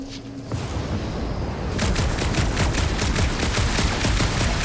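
Sustained gunfire in the Guardians of the Galaxy video game, a dense, loud fusillade of rapid shots and booms that grows heavier partway through and never lets up.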